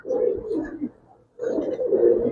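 Giribaz pigeons, silver and chila coloured, coo close by in two soft, throaty phrases separated by a brief pause, with no one talking over them.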